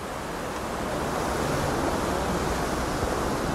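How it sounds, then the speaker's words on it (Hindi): A large mountain waterfall flowing beside the Amarnath Yatra track, heard as a loud, continuous broadband roar of rushing water with no voices over it. "ये देखिए, ये भाव देखिए झरने का"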